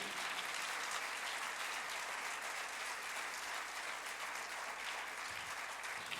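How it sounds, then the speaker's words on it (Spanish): Church congregation clapping throughout, a dense, sustained round of applause filling the room at even strength. "Dele un aplauso al Señor."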